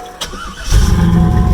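A turbocharged Chevrolet Corvette with a newly fitted turbo and a small oil leak cranks and fires up, then settles into a loud, close, steady rumbling idle.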